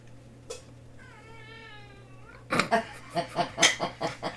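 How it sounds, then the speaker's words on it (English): A puppy gives a small, high-pitched squeaky yawn that is drawn out for about a second and a half. People start talking right after it. "That was a yawn."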